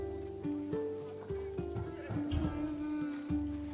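A horse whinnies and snorts among clip-clopping hooves at a stable merchant in the Assassin's Creed Odyssey video game, with game music and a steady background drone.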